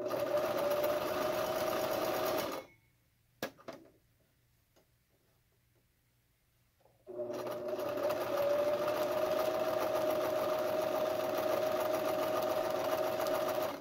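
A home sewing machine stitches the hem of a cloth face mask in a loud, steady whirring run, stops for a few seconds of near silence with a click, then resumes its even buzzing.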